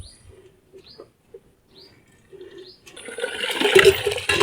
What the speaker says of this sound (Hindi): तीसरी बाल्टी अब मैं भर रहा हूँ